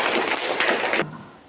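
Classroom applause during a school lesson, a brief burst of clapping from students that fills about a second and then cuts off abruptly, leaving faint room tone.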